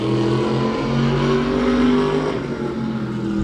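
A race car lapping Claremont Motorsports Park, its engine droning loud and close as it swings off turn 4 along the wall and across the stripe, pitch wavering slightly as it passes.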